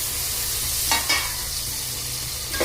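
Tomatoes frying in a pan with spiced masala for cabbage khichdi, a steady hiss of sizzling oil, with a few brief stirring scrapes near the pan.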